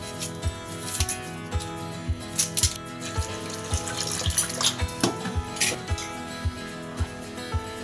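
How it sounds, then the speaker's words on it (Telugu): Steady running tap water while ingredients are rinsed in a home kitchen during fish curry preparation, with a continuous splashing hiss and a regular series of sharp clinks and taps from utensils, close by and with no talk. "వాటర్ తీసుకొని కొంచెం కడుక్కోవాలి ఫ్రెండ్స్ శుభ్రంగా"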